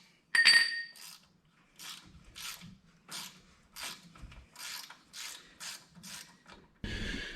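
A hand ratchet works on the wheel bearing housing bolts of a vehicle, giving about ten rhythmic bursts of rapid clicking after an opening metallic clink, close and fairly loud.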